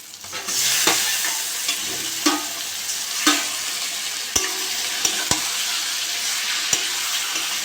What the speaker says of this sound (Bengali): মাছগুলো দিয়ে ভালো করে কষে নেব